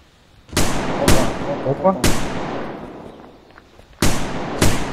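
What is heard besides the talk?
gunfire in the video game Unturned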